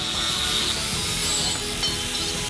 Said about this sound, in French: Coupez le tube profilé aux longueurs requises